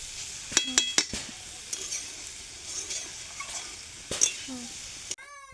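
A woman sits and stirs curry in a pan. A utensil clinks and scrapes against the metal in a few sharp knocks over a faint, intermittent sizzle, with quiet room noise between strokes.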